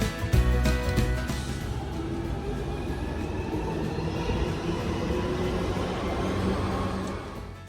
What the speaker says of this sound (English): The train is coming in a minute.